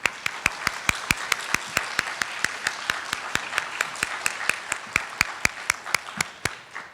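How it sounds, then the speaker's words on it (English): Audience applause for community forum panelists, steady mid-level clapping with sharp, evenly spaced claps from one nearby person standing out over the softer crowd. "Let's give them a round of applause."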